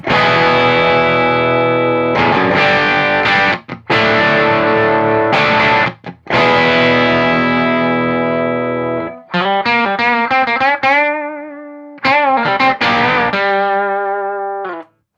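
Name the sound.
Rangemaster treble booster guitar pedal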